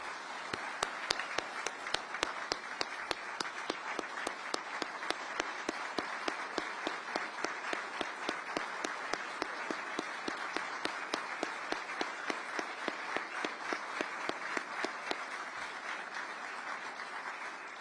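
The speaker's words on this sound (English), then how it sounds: "I want to give everybody a round of applause." A large audience at a political event with Liz Cheney gives a sustained round of applause, dense steady clapping that fills the room at an even level for the whole stretch, with no talking over it.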